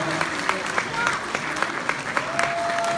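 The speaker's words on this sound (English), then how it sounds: "Please give a round of applause." An audience at a Tibetan Losar event breaks into steady applause, with individual claps standing out near the front and voices faintly heard within it.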